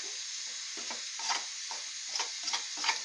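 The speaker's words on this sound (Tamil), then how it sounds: "இப்போ கொஞ்சம் சிம்மில் வச்சு கிளறிக்கிட்டே இருக்கணும்." Mutton pepper chops, Chettinad style, being stirred in a pan over a low flame: a steady soft sizzle with repeated scraping strokes of the spoon rising above it, close and fairly quiet.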